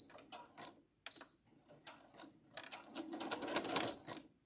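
A sewing machine stitches the center of a quilt sandwich in short, stop-start runs of fast clatter, close and fairly quiet, with small clicks between the runs.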